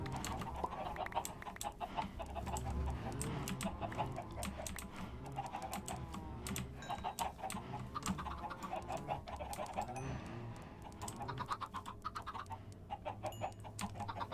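Chickens in a video game cluck and chatter continuously while being fed, a busy layered flock sound with rapid computer-keyboard typing clicking over it throughout.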